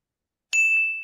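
A quiz-show buzzer rings once with a bright, clear ding that rises out of silence and rings on, fading slowly with a faint second strike partway through.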